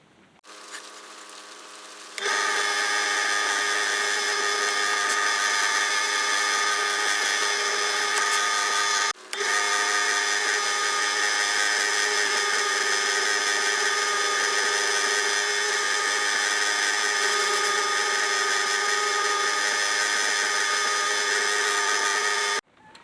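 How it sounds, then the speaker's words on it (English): A power tool works wood being sanded, drilled and shaped, giving a loud steady high whine that runs almost without a break after a quieter start, with one brief pause partway through. "all sanded down and smooth, and drilled and shaped and ready for painting"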